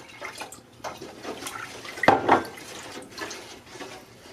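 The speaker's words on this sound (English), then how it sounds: "Now we're going to add 3/4 cups of lemon juice." Lemon juice poured into a pan of strawberry pie filling made with sugar and water, a short liquid splash and trickle standing out from quieter kitchen background with no speech.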